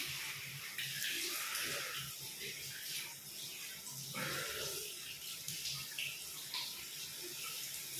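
Water runs steadily from a tap for washing feet, a continuous hiss of flow with slight splashing variations throughout, fairly close and moderate in level with no talking.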